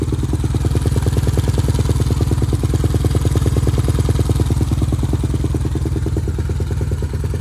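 A Suzuki LTR 450 ATV engine idles on its own after a throttle position sensor replacement, a loud close steady rapid thumping putter that holds an even rhythm and settles slightly near the end.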